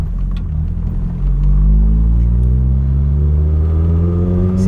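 An SRi130-powered Mk2 Vauxhall Cavalier accelerates on the road, its rumbling engine note rising steadily, loud and close from inside the car.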